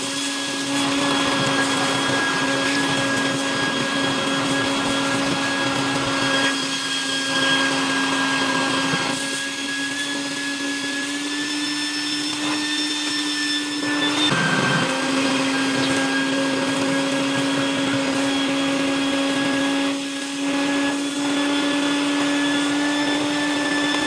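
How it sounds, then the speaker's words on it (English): Shop vacuum sucking up debris in an engine bay of a 2002 GMC Sonoma that sat parked for years, running loud, steady and close throughout with a constant whining drone that dips slightly now and then. "get my shop back, vacuum all that up"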